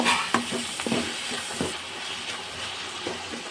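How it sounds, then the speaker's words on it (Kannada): Grated carrot and tomato fry in hot oil with a continuous dense sizzle, with a few spoon scrapes and taps near the start. "ಫ್ರೈ ಮಾಡ್ಕೋತಾ ಇದ್ದೀವಿ"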